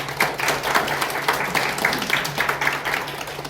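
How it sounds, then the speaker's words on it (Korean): An audience at a Korean care-project gathering claps in welcome for a visiting professor, a brisk, fairly loud burst of many hands with distinct individual claps and a low steady hum beneath. "우리 환영하는 박수"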